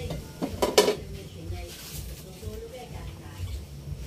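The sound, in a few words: cooking pot being covered with its lid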